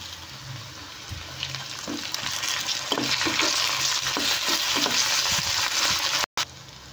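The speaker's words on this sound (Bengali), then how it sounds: "এবার এই যে আদা রসুন বাটা দিয়ে দিলাম আমি" Ginger garlic paste and onions frying in oil with a bay leaf and spices for a chicken dish, a steady close sizzle with scraping stirs and a brief cut near the end.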